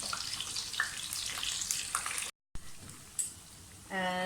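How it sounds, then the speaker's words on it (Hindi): Chicken pieces coated in spice masala fry in very hot oil for a steamed roast: a loud, dense, crackling sizzle. It breaks off for a moment, then resumes, and a short tonal hum enters at the end. "ऑयल तेज़ गर्म होना चाहिए। तो फ्राई होने दें।"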